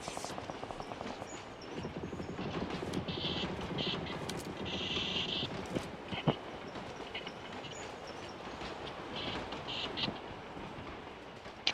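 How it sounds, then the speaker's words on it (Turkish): A train rolls in within a video game, its steady rumble and rail clatter holding loud throughout, with a few higher tonal squeals near the middle; a voice speaks briefly over it. "O başka tren daha geliyor arkadaşlar"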